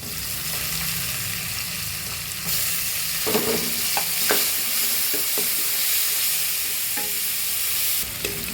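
Garlic, curry leaves and onions sauté in hot oil, a loud continuous sizzle close up, broken by several distinct spatula scrapes and clacks against the pan, with no talking.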